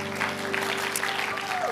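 A church congregation clapping during a sermon, a brief burst of dense, steady applause heard at moderate distance.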